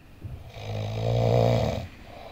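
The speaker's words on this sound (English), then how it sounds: "lets out a grunt and snore" An old man in bed lets out a single drawn-out grunting snore, low and rasping, rising and then fading over about a second and a half in a quiet room.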